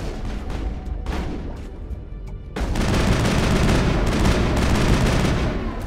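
A gun fires in Mass Effect, a few sharp scattered shots at first, then a dense, loud rattling burst of rapid gunfire that continues to the end.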